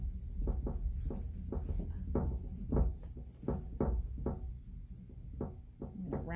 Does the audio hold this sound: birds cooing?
no